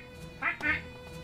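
A mallard duck in a dinosaur park adventure game gives two short quacks close by, over a steady hum of game background sound.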